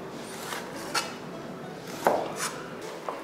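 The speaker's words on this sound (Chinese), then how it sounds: "再来切个洋葱，洋葱切丝，再切一点青蒜， 再切一点五花肉" Knife chopping onion, green garlic and pork belly on a cutting board, a handful of distinct close thuds spaced irregularly over a quiet kitchen background.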